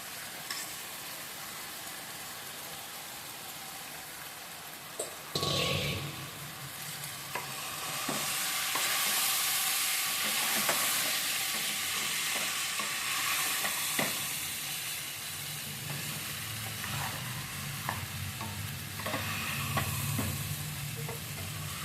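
Soaked sabudana tipped into a hot pan and stirred, giving a steady frying sizzle with scraping spoon strokes that rises after a sharp clatter and continues close and loud, with no talking.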